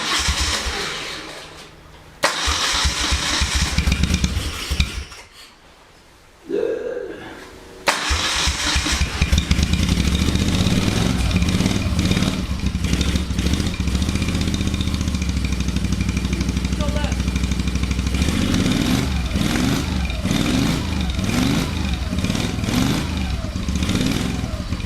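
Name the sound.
Moto Guzzi V35 motorcycle engine started and running on stand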